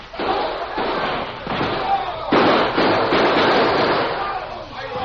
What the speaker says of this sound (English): There was a quick exchange of gunfire.